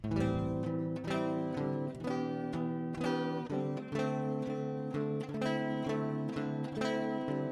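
Strummed guitar chords for the chorus of a song, played steadily and continuously at moderate volume with a rhythmic, even strum pattern and no singing.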